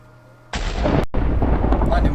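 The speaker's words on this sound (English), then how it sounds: "Lightning flash." A lightning strike in the Minecraft modpack SevTech Ages lands close and loud, a sudden crack that opens into a heavy, sustained thunder rumble, with a brief cut partway through and no talk over it.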